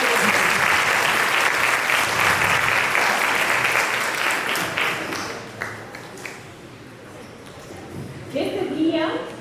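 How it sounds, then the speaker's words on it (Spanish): A lecture audience at a gastronomy talk breaks into strong, full applause that swells loudly, then thins out and tapers, with a burst of voices rising near the end. "damos la ponencia con un aplauso fuerte"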